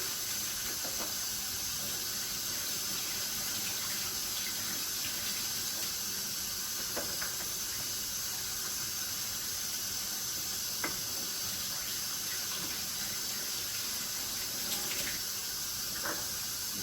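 Carrots washed under a running kitchen tap, a steady loud hiss of flowing water filling the whole stretch, with a few faint clicks and knocks.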